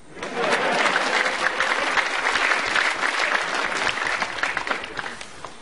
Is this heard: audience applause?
yes